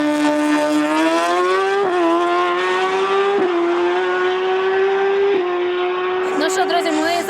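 Drag racing cars from the Street Unlim class at the season final in Odesa, one engine holding a loud steady idle at the start line with small blips of revving, close and sustained.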